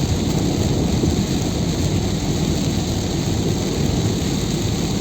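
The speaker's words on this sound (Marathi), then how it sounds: "भरपूर पाऊस पडतो आहे" Heavy monsoon rain pours down in the Lonavala ghat on the Mumbai–Pune route, a loud, unbroken wash of dense hiss and low rumble that stays even for the whole stretch, with no voices.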